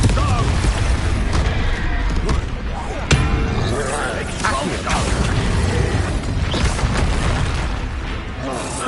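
Spell explosions from Hogwarts Legacy gameplay, with loud booming bursts and impacts over constant dense game sound and music, several blasts across the stretch, with voices shouting spell names in the mix.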